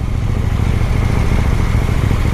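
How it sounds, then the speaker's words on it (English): A KTM 890 Duke R motorcycle engine runs loud and close on a ride, producing a dense, sustained roar with a gritty mechanical texture and no speech. "And the engine it's very satisfying. It doesn't feel like a little toy engine."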